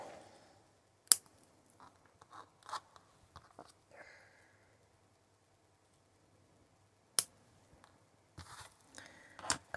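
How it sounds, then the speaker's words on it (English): Scissors snip through craft paper at a crafting table, a few sharp close cuts in short bursts separated by quiet handling rustles. "So let me just grab scissors."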